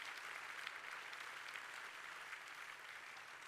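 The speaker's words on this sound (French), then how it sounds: "vous pouvez l'applaudir" Steady, sustained audience applause for Laurent de la Clergerie, a dense wash of clapping at moderate distance filling the whole stretch without pause and with no voices over it.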